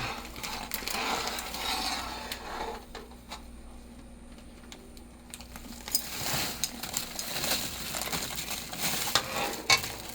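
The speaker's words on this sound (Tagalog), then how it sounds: "Ayan kumukulo na." A pot of sugar mixture for biko bubbles and hisses steadily with a broad, noisy texture, punctuated by occasional clicks and scrapes nearby; no one speaks.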